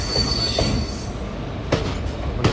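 A train on the Coimbatore–Bangalore rail line rolls past close by, its wheels squealing in a high thin whine over steady rumbling, with a few sharp clacks near the end.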